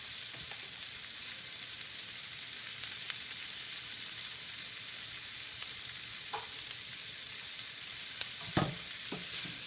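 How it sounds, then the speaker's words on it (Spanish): Onions frying in oil and butter with sugar added to caramelize them, a steady close sizzle throughout with a few faint utensil clicks and a soft scrape near the end. "Me encanta el olor de la cebolla cuando se cocina."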